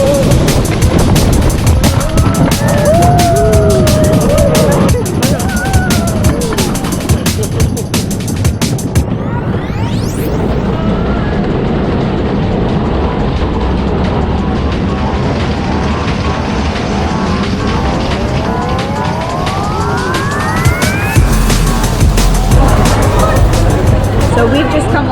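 Family roller coaster Blue Flyer at Blackpool Pleasure Beach: a steady rattling, rumbling ride with wheel clatter and rushing wind, a rising screech near the end, with riders' voices and crowd babble throughout.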